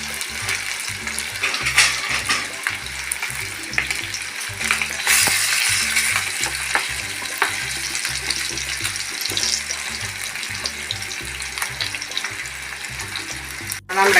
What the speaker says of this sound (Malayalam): നമ്മുടെ ചിക്കൻ നന്നായിട്ട് ഫ്രൈ ആയിട്ടുണ്ട്.